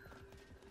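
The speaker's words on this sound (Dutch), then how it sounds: "Ik hoor weer paarden." Horse hooves clip-clopping in the video game Realm Royale, a quick, quiet burst of trotting steps, heard alone.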